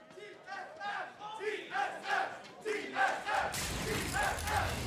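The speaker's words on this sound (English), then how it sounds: "You can hear the roars of the crowd." An esports arena crowd at an LCS 2019 Spring Split League of Legends match between TSM and FlyQuest chants in rhythmic, repeated bursts, then swells into a loud, sustained roar of cheering.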